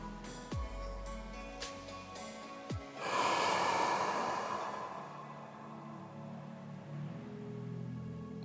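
Deep abdominal breathing during a stretch with the legs pressed apart: two sharp nasal sniffs, then a long, close, audible exhale that slowly fades.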